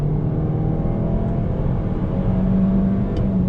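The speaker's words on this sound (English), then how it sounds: "So if I floor it right now," A 2020 Toyota Corolla engine under full throttle from inside the cabin, a steady loud droning hum with a rising tone, continuous throughout with no talking.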